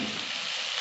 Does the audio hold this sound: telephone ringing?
no